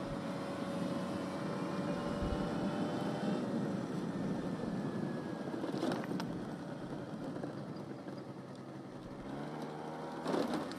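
A Honda Aero 50 scooter with a 50 cc engine runs steadily with a thin, buzzing drone that holds at an even level for about ten seconds, with a few brief rattling clicks and no talking.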